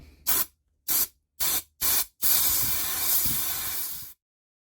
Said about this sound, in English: Okay, all the bolt holes on this side are blown out.